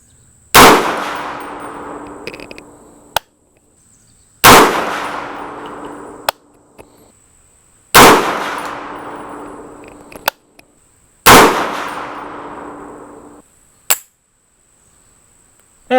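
.300 Blackout rifle firing at a range target, four sharp loud shots spaced a few seconds apart, each with a ringing decay, and softer metallic clicks and clinks between them.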